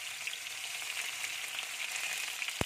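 Onions and bay leaves frying in hot oil for an Assamese chicken curry, a close, even hissing sizzle that holds steady, with a sharp knock right at the end.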